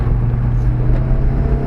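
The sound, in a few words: Mitsubishi Galant VR4 engine, hillclimb driving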